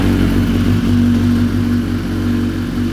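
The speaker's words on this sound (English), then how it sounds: "we're going to start the bike in neutral" A BMW S1000RR sport motorcycle engine runs at a steady idle in neutral, a loud, close, even rumble with a constant low hum and no talking.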